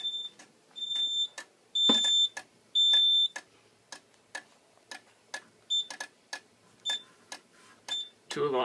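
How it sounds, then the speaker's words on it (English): A Simplex 4005 fire alarm system sounds in repeated bursts of high electronic beeping during a test, with intermittent clicks and short pauses between tones, fairly close and loud, ending with a brief burst of noise. "Reset the alarm."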